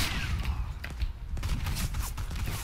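Gunfire in the online shooter Warface comes as several sharp, close shots and short bursts scattered over a steady background of game noise, with no talking.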